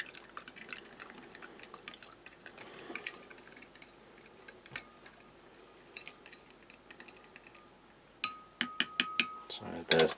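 A spoon mixes U.S. Army MRE drink powder, drinking chocolate or protein drink, into cold water: soft drips and faint liquid movement, then a run of sharp metallic clinks near the end, all close by.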